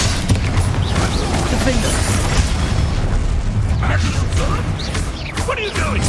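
Spell blasts and explosive booms in a Hogwarts Legacy duel, a dense, continuous rumble of impacts and crackling bursts with a voice calling out over the din.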